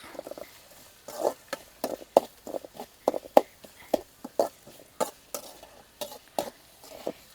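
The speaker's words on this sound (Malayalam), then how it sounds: "ഇനി നമുക്കിത് നന്നായിട്ടൊന്ന് വഴട്ടിയെടുക്കാം" Curry leaves, onions and green chillies are sautéed in a pan while a spatula scrapes in quick, rhythmic strokes about twice a second over a soft sizzle, close by and without talk.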